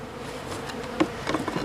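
Honeybees buzz around hives during robbing, several insects droning near the microphone with sharper passes as individual bees fly close, no talking.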